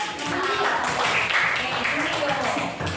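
Schoolchildren in a primary school classroom clapping their hands together, a dense, close burst of applause lasting a few seconds, with voices mixed in.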